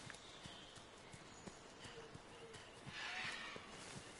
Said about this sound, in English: it's just that thing flapping its wings. Sounds like big footsteps.